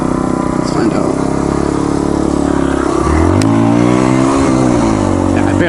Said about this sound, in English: Could maybe pull a power wheelie in first, but I really have to crank back on the handlebars.